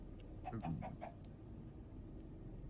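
A Minecraft chicken, ridden by a piglin, gives a short series of four or five soft clucks over a steady hiss of game background noise, with no talking.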